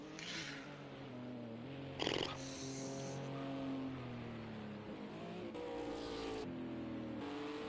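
GT4 race cars howl around Bugatti Circuit in a racing video game, a steady layered engine drone with shifting pitch and a brief gear-change burst, several cars close together and continuous throughout.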